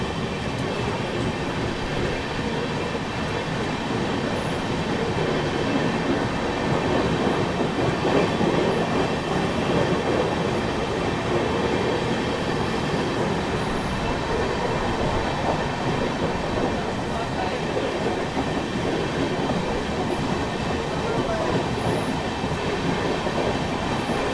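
The Mahabodhi Express, hauled by a Vadodara-shed WAP-7 electric locomotive, runs while overtaking the Azimabad Superfast Express. From on board comes a loud, steady rumble with continuous clickety-clack and occasional wheel squeal, and no talking.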